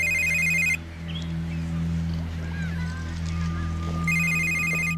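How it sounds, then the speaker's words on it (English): A phone ringtone trills in two bursts, a bright repeating electronic ring at the start and again near the end, over a steady low hum with a gap between the rings. "Dude, your phone, you gonna get that?"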